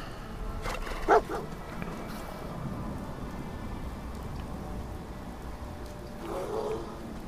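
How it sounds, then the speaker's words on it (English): A dog barks once, fairly close, in Fallout 4, set against steady rain and rumbling outdoor ambience that carries on after the single sharp bark. "Where are we going, you dumb dog?"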